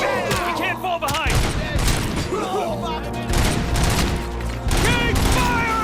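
RoboCop: Rogue City video game firefight, with dense, continuous gunfire and mechanical clatter under shouted commands from game characters, loud and close throughout.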